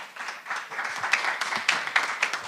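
An audience at an AI Global Forum expert session applauds Vice Minister Kang, a steady patter of many hands clapping at moderate loudness throughout.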